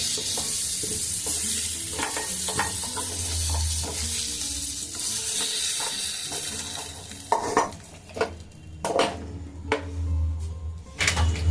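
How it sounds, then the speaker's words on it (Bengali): Onions fry in oil in a pan with a constant sizzle while a spatula stirs and scrapes against the metal, and sharper clanks and scraping strokes come toward the end. "আমি এখন এগুলোকে এই সুন্দর করে নাড়াচাড়া করে পেঁয়াজগুলোকে ভেজে নেব"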